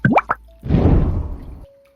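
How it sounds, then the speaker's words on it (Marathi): A couple of quick drips, then a short, splashy slosh of water as banana flower buds are rinsed, fading out. "कळ्या व्यवस्थित पाण्यातून स्वच्छ धुवून घ्यायच्या आपल्याला"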